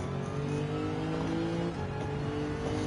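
A racing car engine in Gran Turismo 7 drones steadily with layered harmonic tones, loud and continuous throughout, with no talking.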